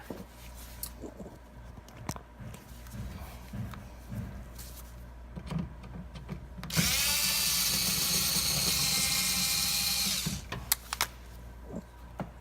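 Scattered clicks and handling noises around a Honda Ridgeline rear bumper cover, then a loud cordless power drill whirs steadily for about three seconds as it backs out a Phillips screw, ending with a few ratcheting clicks.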